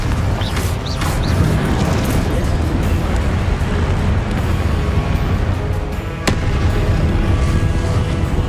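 Incendio and Confringo spell blasts fire off in Hogwarts Legacy as a dense, loud barrage of crackling, booming bursts, with a sharp crack standing out near the end.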